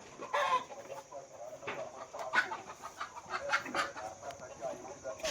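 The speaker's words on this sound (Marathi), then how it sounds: "कोंबड्या जायला लागल्या सगळ्या" Farm chickens clucking at dusk as they head into their netted coop on a goat farm, a scattered series of short, close clucks and calls with irregular rhythm.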